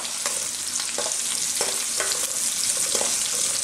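Onion and garlic sautéing in oil in a pan, a continuous crackling sizzle punctuated by several short stirring clicks and scrapes at an irregular rhythm, close and fairly loud with no talking.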